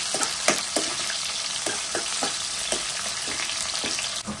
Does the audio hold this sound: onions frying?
yes